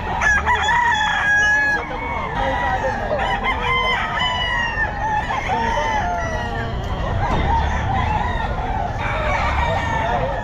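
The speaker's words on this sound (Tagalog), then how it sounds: "Maraming manok mga kabossing." Roosters crow repeatedly and loudly at a busy pet market in Bocaue, with overlapping drawn-out calls and steady clucking underneath and a faint murmur of people in the background.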